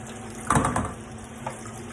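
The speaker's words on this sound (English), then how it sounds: "Just carefully pour it into your pan." Meat juices from an Easter Sunday roast poured through a sieve into a pan, a short watery splash and trickle rising briefly then fading, with a smaller pour a moment later over a steady background hum.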